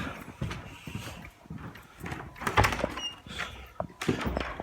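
A locked door is tried, with clunks and rattling handle knocks at close range amid shuffling and background noise, a few sharper impacts standing out over a steady low rumble.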